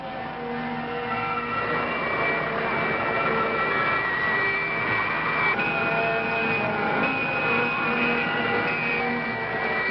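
Spacecraft engine thrust building in the 1964 science-fiction film Attack From Space: a loud, steady roar with layered whining tones that shift in pitch while the engine runs continuously throughout.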